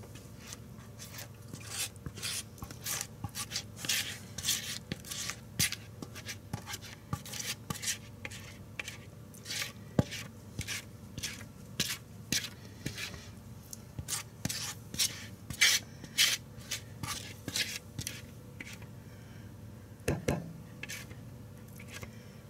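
Macaroni salad is stirred in a bowl, giving a steady run of soft, wet scraping and rubbing strokes at close range over a quiet room.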